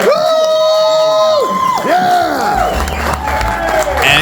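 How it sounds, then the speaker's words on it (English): Crowd cheering and whooping aboard a Tampa Bay Buccaneers fan cruise with Warren Sapp and Brian Ford, loud and close for a few seconds, with sweeping whistles and shouts layered over the noisy gathering. "Big round of applause"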